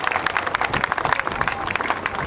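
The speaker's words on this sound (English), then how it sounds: "Please give a round of applause for the VFA-106 maintainers who made this demonstration possible." An outdoor airshow crowd at NAS Oceana claps for the maintainers of an F/A-18C Hornet demonstration team, a scattered, moderately loud patter of many hands that continues evenly throughout.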